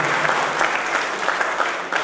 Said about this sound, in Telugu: అందరూ చప్పట్లతో ధన్యవాదాలు తెలపాలని